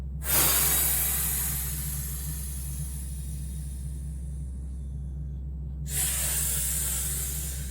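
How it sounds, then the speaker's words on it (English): A deep breath pushed out during a breathing exercise for stiffness relief, heard as a long airy hiss lasting several seconds, then a second rush of breath near the end, close and alone without talk. "I'm ready to take a deep breath, breathe out."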